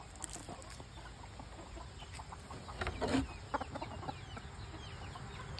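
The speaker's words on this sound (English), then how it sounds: "These two are the only two chickens that can get every other chicken in our yard to start having a fit." Backyard chickens and a rooster cluck and squawk in a homestead yard, scattered calls rising into a brief flurry midway, moderately near against a faint steady background hiss.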